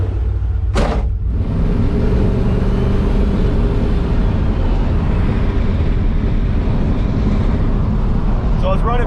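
A tuned Chevrolet Camaro drives along a road, its engine a steady low rumble with constant road and wind noise throughout, briefly joined by a short burst near the start.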